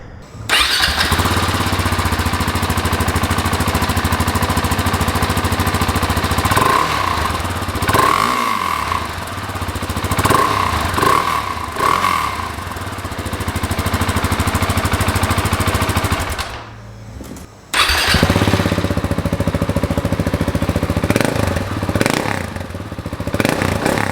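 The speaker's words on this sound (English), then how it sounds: "it'll give you an idea of the stock exhaust versus the Akrapovic" A Husqvarna 701 Supermoto engine idles loudly and revs several times, cuts out briefly, then restarts and runs on with a deep, throaty exhaust note, comparing stock and Akrapovic exhausts.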